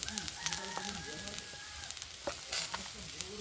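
Chopped vegetables with salt and turmeric sizzle and crackle steadily in a frying pan, a soft, continuous hiss with occasional stirring clicks and faint background sounds.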